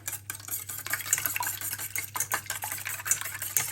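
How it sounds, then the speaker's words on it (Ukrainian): Three eggs with a pinch of salt being stirred in a bowl, a brisk, continuous clicking scrape of utensil against the dish, close and clear, with no talk. "ми Вбили три яйця, додаємо чуть-чуть сольки, розмішуємо."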